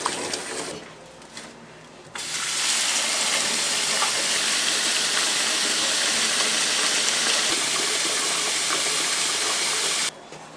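Food boils in a Korean set-meal restaurant, a loud, bright, continuous hiss of bubbling and steam that starts abruptly after a quieter moment and runs evenly for about eight seconds before cutting off.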